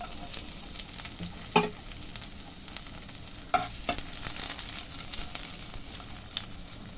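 Torn dried chillies and chopped garlic fry in hot oil, giving a steady, close crackling sizzle broken by occasional sharp spatula knocks and stirs.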